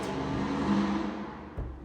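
A passing car's engine revs and whirs with a rising tonal hum, moderately faint, then fades with a brief low thump near the end; no voices.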